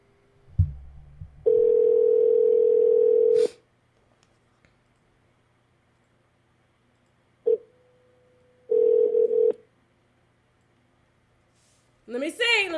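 Two long steady tones of a telephone ringback, each lasting a couple of seconds and separated by silence, with clicks around them while waiting for someone to pick up.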